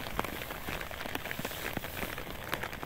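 Heavy rain falls in a steady patter of dense drops striking a surface. It is fairly faint, with scattered sharper drips standing out, and no voices are heard over it.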